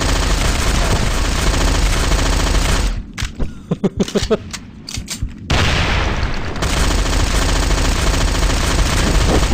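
Loud, dense video-game gunfire from dual MP7 submachine guns rattles almost continuously, breaking briefly into separate sharp bursts before the heavy firing resumes.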